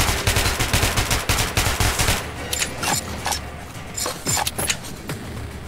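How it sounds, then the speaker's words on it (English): Rapid bursts of gunfire shoot out a light in Metro: Last Light Redux, a dense volley of loud, close shots at first, then sparser individual cracks with scraping debris over a low rumble. "Shooting that light."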